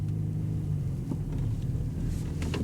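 A 2017 Chevrolet Malibu engine runs with a slight misfire, giving a low, close rumble with faint uneven pulses over a few seconds.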